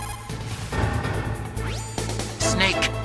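Bulletproof glass being struck in the Metal Gear Solid video game, a few sharp smashing whacks layered over dense game music and effects, fairly loud.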